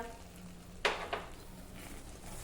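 A spoon stirs roasted coarse peanut powder into a dry ridge gourd sabzi, two quick scraping clinks against the pan over a faint, steady sizzle.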